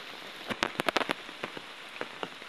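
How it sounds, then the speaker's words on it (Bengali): Rain falls in Matlab, Chandpur, with loud, close drops spattering irregularly on a hard surface and a steady hiss of rain behind them. "সব বৃষ্টি পড়তেছে।"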